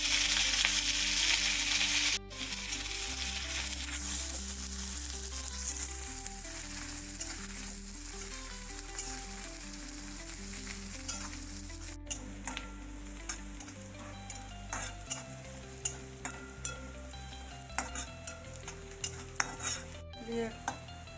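Onion and chili drop into a sizzling cumin and mustard seed tempering in a pan, starting with a loud burst of hissing that settles into steady frying, with scattered spoon clinks and scrapes.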